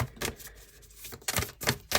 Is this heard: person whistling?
no